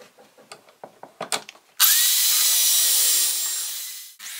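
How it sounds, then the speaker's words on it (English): A power drill bores holes into a straight piece of wood meant as a jigsaw fence, preceded by a few light handling knocks, then one loud, steady whine lasting over two seconds before it stops. "I drilled 2 holes in each side."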